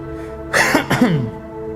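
A single short cough bursts out, followed by a second throaty cough, close and clear against a quiet, humming background.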